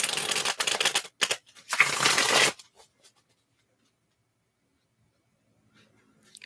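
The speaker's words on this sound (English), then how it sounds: "And I'm going to get your cards shuffled." Cards are shuffled briskly up close for about two and a half seconds, a dense riffling flutter with a short pause, then near silence follows.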